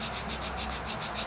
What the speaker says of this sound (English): we are going to file this straight